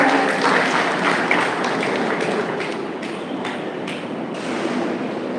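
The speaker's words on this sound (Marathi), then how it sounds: "आपण जोरदार टाळ्या वाजवूया" Applause at a Rajmata Ahilyadevi Holkar birth anniversary ceremony greeting an arriving member of parliament, a moderate, continuous patter of many hands that holds steady, with a few sharper bright accents.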